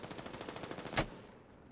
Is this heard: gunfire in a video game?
yes